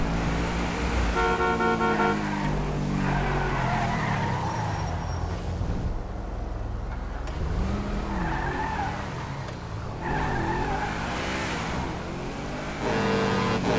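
A Lamborghini with manual transmission driven in GTA 5, engine note rising and falling through gear changes with tire squeal and skidding, brief horn toots, and a quiet gap in the middle.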